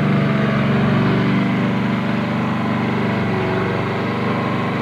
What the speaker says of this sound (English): Mowing again.